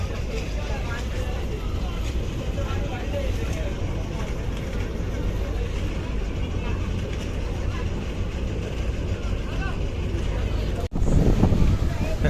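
A passenger launch on a river between Shariatpur and Dhaka drones with a steady low engine rumble from on board, with speech over it and a brief louder burst near the end.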